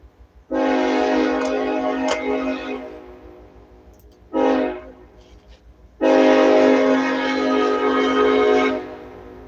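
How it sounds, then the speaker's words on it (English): A train horn sounds three loud, steady blasts, long, then short, then long, over the low rumble of a passing train. "Train passing by and then slowing way down."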